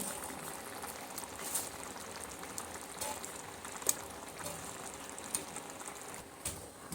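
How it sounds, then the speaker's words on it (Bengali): Fish curry gravy with kulekhara greens simmering in a pot, a continuous soft bubbling with occasional sharper pops, close and fairly quiet with no talk. "ঝোলটা আমার এখানে সুন্দরভাবে ফুটে এসেছে"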